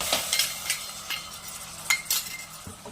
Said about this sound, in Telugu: కొంచెం కొబ్బరి, ఉల్లిపాయ పేస్ట్ వేద్దాం